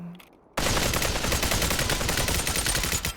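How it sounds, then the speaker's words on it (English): An AK rifle fires a sustained, rapid burst in the VR shooter Population: One. The gunfire is loud and close and breaks in suddenly after a brief quiet moment. "So easy to shoot this gun now."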